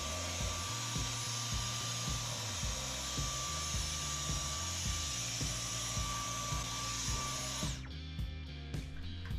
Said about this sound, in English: then I'll grab a hoover to get the rest out